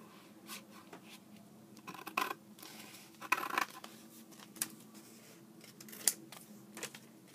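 Scissors snip paper in short, irregular crisp cuts, with quiet rustling and handling between them and no voices.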